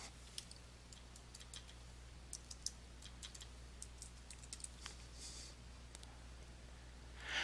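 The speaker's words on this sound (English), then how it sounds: "begin by typing a name for the customer as you would like it to appear within the Customers and Jobs tab" A customer name being typed on a computer keyboard into an accounting program's customer field, with quiet, scattered key clicks in an irregular rhythm against a faint steady hum, ending in a brief louder rustle.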